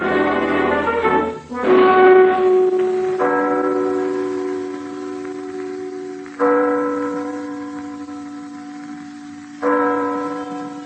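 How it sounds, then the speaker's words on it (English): A town hall bell tower in Copenhagen, Denmark strikes the hour: large resonant bell tones sounding one after another in slow succession, each leaving a long ringing decay that hangs in the air. No voices are heard. "You are listening to the hour striking in the bell tower of the town hall of Copenhagen"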